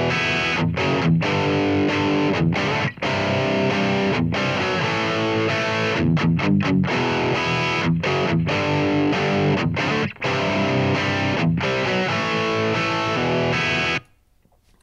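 Heavily distorted electric guitar through a Brit 800 amp simulation with a 4x10 cabinet mix impulse response, playing loud sustained riffs with brief choppy breaks before stopping abruptly near the end.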